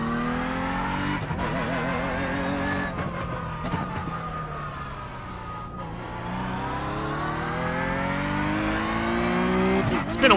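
NASCAR race cars roar around the track, a loud, continuous engine drone whose pitch rises and falls as the cars accelerate, shift and pass, with a voice faintly underneath.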